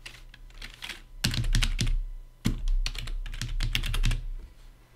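Rapid keystrokes on a computer keyboard as an account name is typed, coming in short close bursts separated by brief pauses, with no talking.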